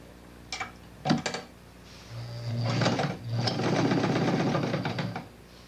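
A sewing machine that has been acting up since a flood on Tinker Street gives a few short clicks and taps, then runs in two steady, whirring stretches close by.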